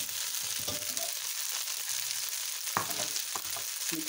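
Red pasta sauce cooking in a pan over medium heat, a soft continuous sizzle with occasional clinks and scrapes of stirring, fairly quiet and without voices.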